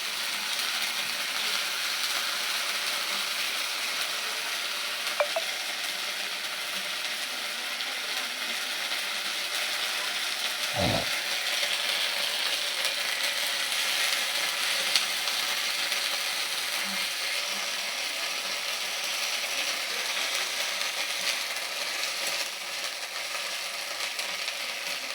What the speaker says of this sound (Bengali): আদাটা প্রচণ্ড ছিটকাচ্ছে